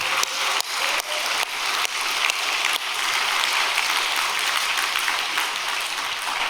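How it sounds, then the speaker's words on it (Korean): Congregation applause at a spiritual retreat gathering in celebration of a testimony, with sharp individual claps marking the start before settling into a steady, rain-like patter of many hands. "우리 승리 축하의 박수 한번 올려드리겠습니다."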